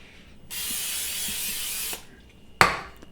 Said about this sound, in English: spray the pan down